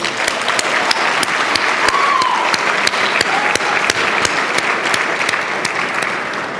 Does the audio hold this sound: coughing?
no